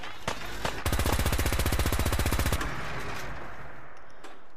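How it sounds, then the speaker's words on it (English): Gunfire in the video game Fallout 4: a rapid automatic burst of about two seconds, loud and close, preceded and followed by scattered single shots, with faint background ambience. "Are you gonna stop shooting me?"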